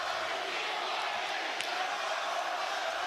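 A large wrestling arena crowd at an AEW event murmurs and roars in a steady, distant wash, with a brief shout rising now and then.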